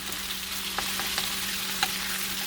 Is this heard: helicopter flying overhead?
no